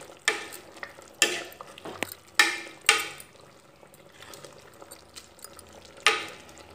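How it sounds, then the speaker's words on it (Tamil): Onion being stirred into vegetable kootu in a pan, with a series of loud, close scraping strokes spaced about a second apart over a quiet sizzle, no talking. "இந்த வெங்காயத்தை எடுத்து இதில் போடணும். இப்போ பாருங்கள், இதை நல்லா இந்த மாதிரி கலந்து விடணும்"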